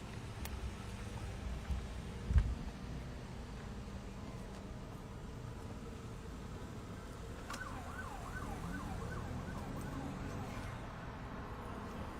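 An emergency vehicle siren wails in the background from about halfway on, its rising and falling tone distant over steady traffic and street noise, near I-295 and Eastern Avenue in Washington, D.C.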